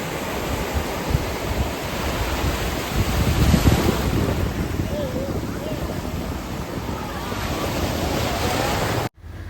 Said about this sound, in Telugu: ఒకసారి మీరు కూడా ఆ అలల చప్పుడు వినండి